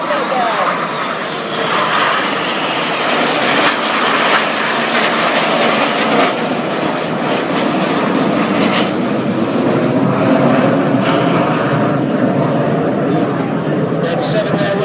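Red Arrows synchro pair jets roar past inverted at an air display in Jersey, a loud sustained engine rush swelling and fading across the whole stretch, with a commentator's voice over the noise.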